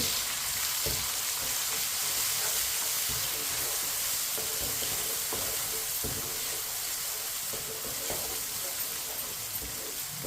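Finely chopped tomatoes and green chilies cooking in a pan for a peas and carrot dish, giving a dense, continuous sizzle with occasional spoon scrapes and stirs, close by and without voices.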